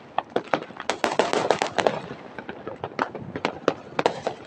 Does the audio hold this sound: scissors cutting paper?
no